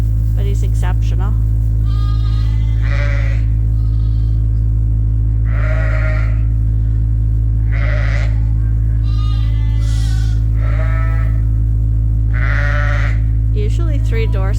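Dorset sheep and lambs bleat repeatedly in a farmyard during lambing, loud nearby calls spaced a second or two apart over a strong steady electrical hum.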